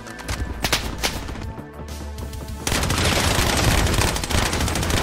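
Rapid bursts of M4 rifle fire in the shooter game Project Bloodstrike, dense and continuous, thickening into heavier sustained shooting partway through, with no voices.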